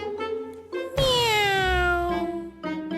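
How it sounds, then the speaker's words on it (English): A cat gives one long, loud, drawn-out meow that slowly falls in pitch, with background music before and after it. "A cat appeared."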